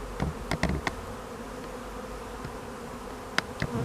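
Bees buzzing at the entrance of a hive, a low steady hum close by, with a few louder individual buzzes passing near the start and end, no talking.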